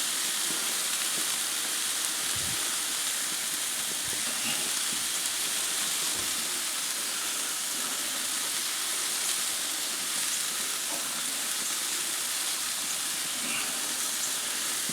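Stuffed mushrooms cook on a grill over a fire, giving a steady, even sizzle and hiss that runs unbroken throughout, with faint crackles and no voices.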